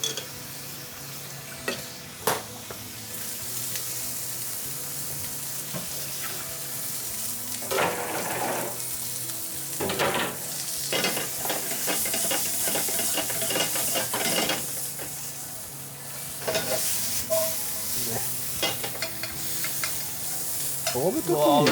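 Turnip and cucumber sear in a pan, with a steady close sizzle and frying hiss throughout, broken by repeated stirring and scraping scuffs and the occasional clink of a utensil.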